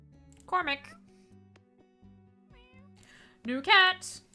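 Meows from a cat in the game Cat Cafe Manager, two clear rising cries about three seconds apart over quiet game background music, with faint softer sounds in between.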